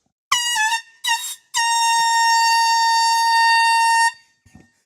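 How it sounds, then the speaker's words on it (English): An air horn sounds two short blasts followed by one long sustained blare to start a golf-a-thon, loud and close, then cuts off into quiet. "I'm going to kick them off with an air horn."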